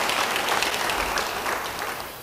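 Church congregation applauding during a sermon, a steady rush of many clapping hands that fades slightly toward the end, with no speech on top.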